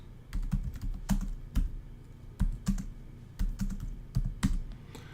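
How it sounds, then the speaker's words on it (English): Rapid bursts of keystrokes on a computer keyboard while entering command-line arguments, clicking in irregular clusters with short pauses between them, close and clear with no voices. "now I can type in my command line arguments"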